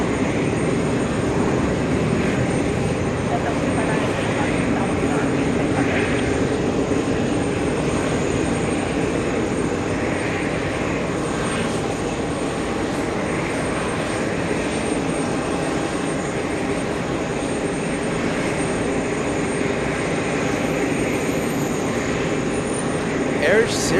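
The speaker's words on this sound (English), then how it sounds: "So waiting for the pushback of that A380." An Airbus A380 is pushed back by a tug, giving a steady, moderately loud engine hum and airport rumble that runs continuously with little change.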